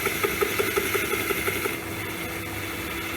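A metal shaper machine, hand-fed, cuts a vice part with evenly spaced rhythmic strokes over a steady motor hum, then the strokes stop and the hum continues alone.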